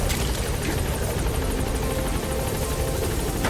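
A steady, loud helicopter drone with rapid rotor chop, continuous and close, from a video game, with no talking over it.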